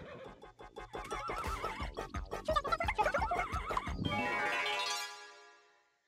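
A horse whinnies in the video game Miitopia, with a long rising neigh and snorting over fantasy game music, clear and close, then fading out near the end.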